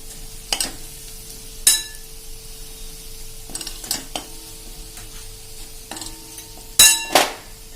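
A spoon stirs the spice mix and chaat masala into a pan for Punjabi dhaba-style sev tomato curry, giving a few sharp scraping clinks against the metal over a faint background sizzle, with no talking.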